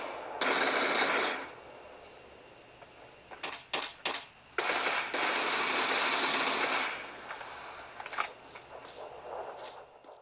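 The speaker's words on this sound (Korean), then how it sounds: "게임 플레이 시 내장 스피커를 사용한다면 뭐 내장 스피커에서 나오는 사운드 그리고 팬 소음 뭐 이런 것들이 섞이겠죠" Video game gunfire played through the built-in speakers of a Razer Blade Pro 17 laptop with RTX 3080 and 11800H, bursts of rattling shots and clicks over a low steady cooling-fan hum, fairly quiet overall.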